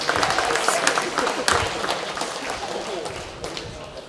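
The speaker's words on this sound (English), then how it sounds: "Let's give them a round of applause" Dense applause fills a room at a Hall of Fame ceremony, thanking the bar service, and fades slightly toward the end.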